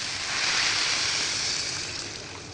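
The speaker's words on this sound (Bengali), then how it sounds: "কষানো হয়ে গেছে, দিয়ে দেবো জল" Water poured into sautéed lentils and vegetables in a pot for vegetable khichuri, a continuous loud rushing splash that swells and then tapers slightly over a few seconds, close by.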